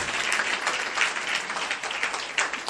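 A congregation at a church sermon applauds, dense continuous clapping that stays loud and even throughout, with no voices standing out.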